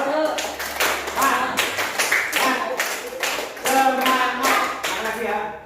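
Classroom students standing and doing a rhythmic spirit clap, a quick patterned run of sharp hand claps repeated several times, with voices chanting along between and over the claps.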